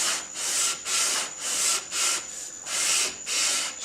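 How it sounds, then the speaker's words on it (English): Redheart wood bandsaw box rubbed by hand across sandpaper in even back-and-forth strokes, a close rhythmic scratchy rasp repeating about seven times with brief pauses between passes. "gentle pressure, even strokes, make sure that the top and bottom get contact with the sandpaper."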